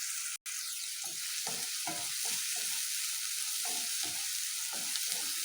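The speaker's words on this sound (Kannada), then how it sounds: "ಈರುಳ್ಳಿ ಎಲ್ಲ ಚೆನ್ನಾಗಿ ಫ್ರೈ ಆಗಬೇಕು" Onions sizzling steadily in hot oil for a fenugreek leaf and field bean stir-fry, a continuous loud hiss with repeated soft scrapes of stirring in the pan, no voices.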